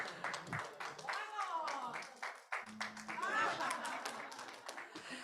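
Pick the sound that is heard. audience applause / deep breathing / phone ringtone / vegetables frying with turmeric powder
audience applause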